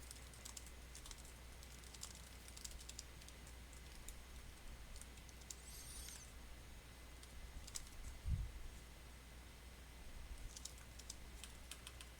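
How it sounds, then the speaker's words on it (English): Meeting notes being typed into a Google Doc on a computer keyboard, heard as faint, sparse key taps in small bursts over a low steady hum. "so I can go ahead and type in my notes"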